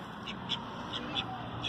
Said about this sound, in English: So these two cute little ducks, well, they're a pair